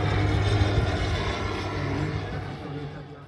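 A propeller sightseeing airplane flies over Liptov at an air race event in Jasná, its engine drone loud and steady before slowly fading, with a voice briefly heard near the start.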